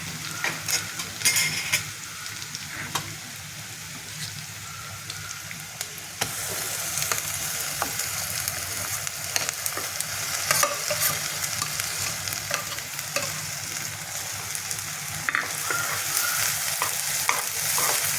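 Ground masala and onion roast in oil in a kadai, a steady loud sizzle with stirring scrapes running throughout, the frying growing slightly denser after the first few seconds.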